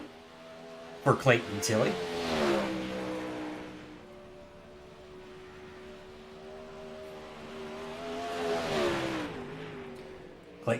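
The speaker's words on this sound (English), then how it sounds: "Clayton Tilley on the throttle here for his first lap" Race car engine on throttle in iRacing at Eldora Speedway, a steady droning tone that rises and falls in pitch as the car circles the dirt oval, with a commentator talking over it.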